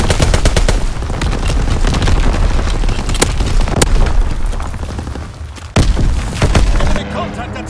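Artillery battery firing in Call of Duty: WWII on the Shipment 1944 map, heavy booms and gunfire bursts continuing throughout, loud and close, with radio-style voice callouts mixed in and a sharp blast near the end.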